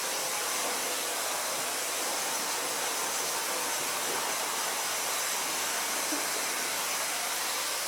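A hair dryer blowing hair, a steady broadband whoosh of airflow held at constant strength without a break, close and moderately loud.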